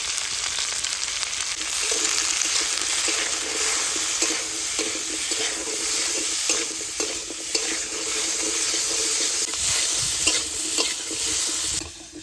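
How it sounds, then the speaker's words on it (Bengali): Potatoes fry in a pan with a continuous close sizzle and frequent stirring scrapes and clinks from a spoon against the metal, with no talking. "আলু একটু ভেজে নিয়েছি"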